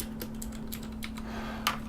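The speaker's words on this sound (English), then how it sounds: "So, in front of me I've got a K83 from Gigabyte with blue switches." A Gigabyte K83 mechanical keyboard with Cherry MX Blue switches clicks under irregular typing, a handful of crisp keystrokes at close range, with one louder clack near the end over a faint steady hum.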